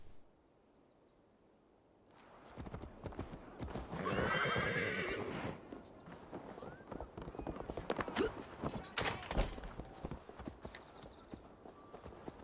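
Quiet at first, then a horse's hooves clop rapidly and unevenly in a gallop, with a loud whinny near the start and faint voices underneath, from the video game Assassin's Creed Valhalla.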